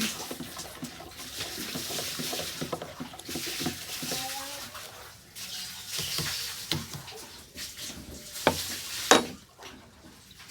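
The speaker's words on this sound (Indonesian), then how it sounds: "Kemudian menambahkan deterjen 100 gram. Kita aduk." 100 grams of detergent stirred into water in a container: close swishing and scraping with a few sharp clinks, and a brief voice partway through.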